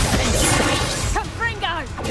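A Bombarda blasting spell bursts in Hogwarts Legacy combat, a loud crashing smash amid dense battle noise, followed by brief whooshing magical sweeps.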